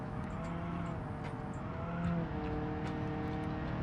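An inline-four car engine revs in a video game, a steady droning tone with slight pitch shifts, fairly quiet and continuous.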